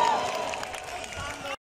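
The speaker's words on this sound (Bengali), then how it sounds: "তাদের জন্য একটি জোরে হাততালি" Crowd at a Bangla cultural stage program applauds and cheers for performers, a dense wash of clapping mixed with voices and babble, steady and fairly loud for under two seconds before cutting off.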